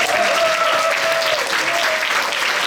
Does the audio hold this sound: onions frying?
no